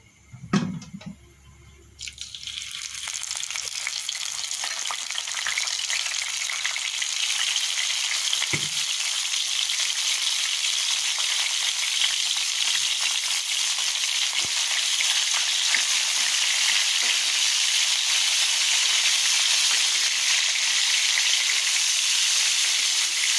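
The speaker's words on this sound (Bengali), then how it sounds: "এখন মাছগুলো একটা একটা করে দিয়ে আমি বাদামি করে ভেজে নেব।" Stinging catfish fry in hot oil in a pan, a dense, steady sizzle that jumps up after a brief quiet start and holds loud and close to the end, with no talk.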